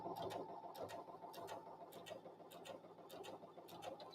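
A sewing machine stitches a sideways zigzag in quick, regular ticking bursts over a steady low motor hum. It is fairly faint, with no speech.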